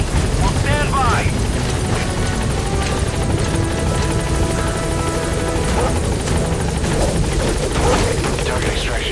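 A helicopter arrives at a landing zone in Metal Gear Solid V, its dense rotor and engine roar steady and loud throughout, with a radio voice speaking over it.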